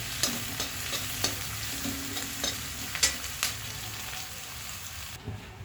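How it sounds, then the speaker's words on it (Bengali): Onion, garlic and green chilli frying until browned, with sizzling and a few stirring scrapes. The dish is for snails with spinach. The sizzle stays steady throughout with spoon clicks at intervals. "পেঁয়াজ রসুনকে আমি খুব ভালো করে লাল লাল করে ভেজে নেব"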